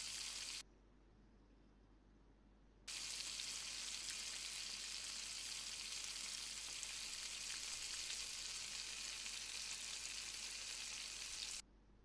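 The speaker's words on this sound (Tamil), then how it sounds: "எண்ணெய் நல்லா சூடானோடனே கட் பண்ணி வச்சுருந்த 3 பெரிய வெங்காயத்தையும் ஆட் பண்ணிடலாம்." Sliced onions fry in hot oil inside a pressure cooker, a steady loud sizzle filling most of the stretch, briefly quieter near the start before surging back, with no talking.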